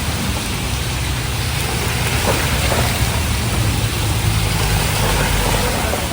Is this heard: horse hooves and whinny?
no